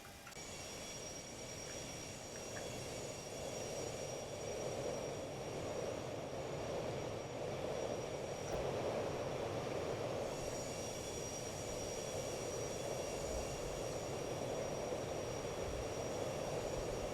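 Boeing 737 jet engines hum and whine steadily through a long taxi in X-Plane 11, with an even broadband roar and high tonal whine and no voices.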